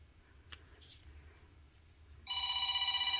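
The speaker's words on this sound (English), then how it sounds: "phone's ringing" A telephone suddenly starts ringing partway through, a loud, steady electronic trill of bright stacked tones that continues to the end over a quiet indoor room hum.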